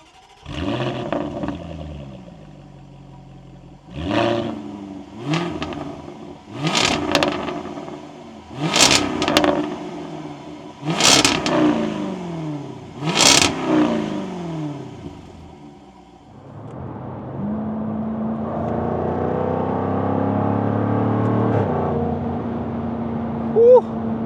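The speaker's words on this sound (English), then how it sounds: "show you more of the exhaust sounds from the back" Sharp exhaust blips of a Jaguar F-Type R75 Convertible fire repeatedly, six or seven quick revs climbing and dropping, followed by a steady, loud droning engine hold.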